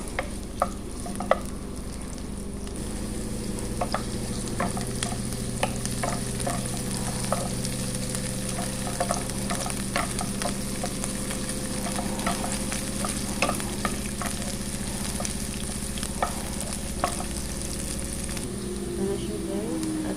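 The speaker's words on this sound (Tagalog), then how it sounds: "Igisa natin ang ating bawang. Yan na siya. At bago pa ito mag-brown, ilalagay natin ang ating sibuyas." Garlic and onion sautéing in a pan for a chicken and vegetable dish, a continuous sizzle with frequent scraping, tapping stirs of a utensil, while a voice talks over it.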